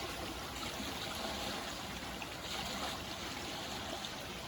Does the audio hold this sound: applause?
no